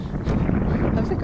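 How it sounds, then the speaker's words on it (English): Wind buffeting a microphone outdoors near a cabin, a steady close rumbling blast of low noise lasting about a second. "it's probably gotten a little windy, so you might not even be hearing me accurately"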